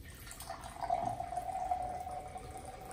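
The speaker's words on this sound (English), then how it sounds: "Let's put a little bit of water in the first cup." Water pours into a cup at close range, a steady filling trickle lasting a couple of seconds at moderate volume in a quiet room.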